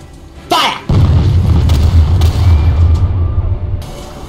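A tank cannon fires in Garry's Mod, a sharp blast followed by a heavy, rumbling boom that lingers for several seconds, loud and close.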